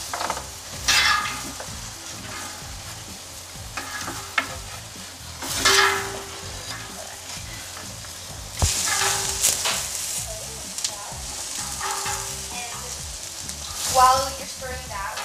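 Zucchini and carrots fry in a pot while being stirred, a steady close sizzle broken by repeated scraping strokes of the spoon, with faint voices in the background.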